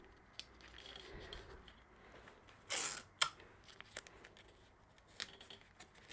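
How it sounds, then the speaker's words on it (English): Fabric for an in-the-hoop 5x7 zipper bag being taped down at the sides: a short, sharp rip of tape pulled off the roll, then soft rubbing and pressing taps, quiet and close. "I'm going to tape the sides down."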